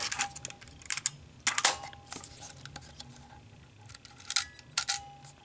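A small vintage camera's shutter fires several times at different selected speeds, sharp mechanical clicks and snaps in irregular bursts, close and crisp with no talk.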